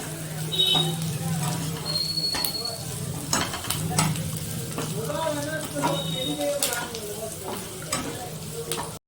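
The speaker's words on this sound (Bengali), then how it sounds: "এটা খুব অল্প আঁচেই ভাজতে হবে, নাহলে রসুন আদা দুটোই পুড়ে যাবে।" Garlic and ginger sizzle gently in oil over low heat, a steady close frying hiss broken by scraping stirs and clinks of a utensil against the pan, with no talk.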